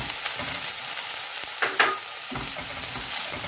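Broccoli added to a hot pan beside chicken teriyaki fries with a continuous bright sizzle, with a few brief stirring scrapes over it.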